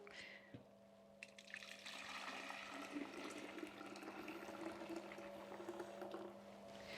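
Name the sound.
pouring strained golden apple and cucumber juice into a jug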